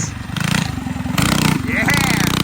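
A mini bike with a 212 engine runs at full throttle in the snow, giving a loud, steady, thumping exhaust drone with rapid pulsing that rises slightly in pitch near the end.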